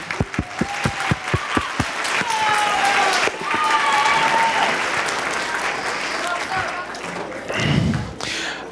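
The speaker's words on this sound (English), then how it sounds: "Let's give everybody a round of applause" A school winter concert audience breaks into applause, starting with a few distinct claps that swell into sustained crowd clapping with cheering voices mixed in.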